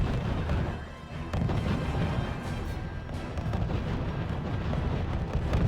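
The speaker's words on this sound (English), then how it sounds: "Zeal is shooting at the barracks" Continuous rumbling gunfire and explosions at a barracks in the RUSE strategy game, a dense, loud battle roar with no pauses.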